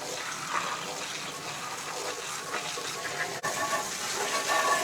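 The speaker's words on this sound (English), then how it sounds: "Being able to wash this deck clean that easy" A steady hissing water spray washes the deck of a Cub Cadet Ultima ZTX4 zero turn mower with a 24 HP engine and a 60 inch deck. The rush is continuous and fairly close, with a brief dip partway through.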